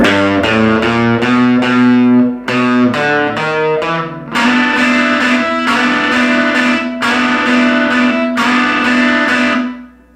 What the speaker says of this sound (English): So I'm picking, or I'm strumming 3 triplets.